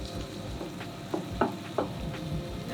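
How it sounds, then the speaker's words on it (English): A pan of stone fruit sauce with vinegar and lime juice simmers over lowered heat, a steady close sizzle and bubble broken by a few soft stirring clicks and pops. "Turn the heat down. We're just going to let this simmer."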